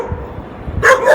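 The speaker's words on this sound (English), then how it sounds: "These are some real dogs." Street dogs bark outdoors at night, a couple of sharp, loud barks near the end rising over a low background hum of traffic and street noise.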